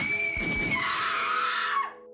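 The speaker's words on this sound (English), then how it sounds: "the screams replacing the comforting, soft melodies" A single piercing scream in an audio drama, held high and strained for nearly two seconds before sliding down and cutting off into near silence.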